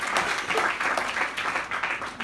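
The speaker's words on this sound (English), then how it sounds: "join your hands and give a big round of applause to every one of you." Lecture audience giving a round of applause in a hall, a short burst of dense, even clapping from many hands, close and fairly loud, with no speech over it.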